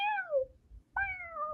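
A house cat meows twice at close range, each call long and drawn out with a falling pitch, separated by a short pause, with no talking over it.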